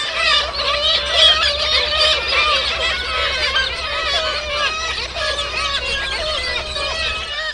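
A dense seabird colony calling noisily all at once, overlapping squawks and cackles forming a continuous raucous chorus without pause.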